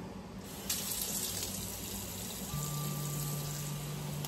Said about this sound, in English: So I'll just fill up a little pot here